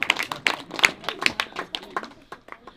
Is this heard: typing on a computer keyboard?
no